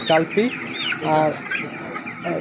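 Chickens on a poultry farm with eighteen-day-old birds, several close, repeated clucks and squawks in irregular bursts, mixed with a speaking voice.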